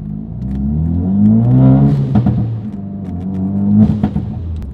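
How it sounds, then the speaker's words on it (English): A Ford Focus RS with a head gasket problem revs and accelerates beneath an underpass, a loud rumbling engine swell broken by sharp crackling exhaust bangs in two short clusters. "we're under an underpass. You know what that means. It means bang, bang, bang."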